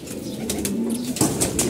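Male pigeons being bathed give soft cooing and bursts of wing flapping, close by, with splashy rustles and no voices.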